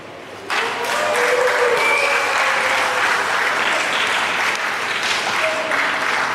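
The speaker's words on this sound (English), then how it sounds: "Paula's obviously got a white card there based on the applause she just got." Steady, dense applause from spectators at a freediving pool world championship during the static apnea event, starting abruptly and holding at full strength throughout, with a few faint voices in the crowd.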